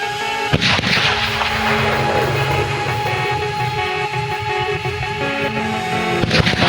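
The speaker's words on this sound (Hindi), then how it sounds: "फायरिंग का आवाज़ सुन सकते हो इधर।" Gunfire in a hill area comes as a dense, continuous rattle of loud shots and booms over several seconds, with a faint engine-like hum underneath.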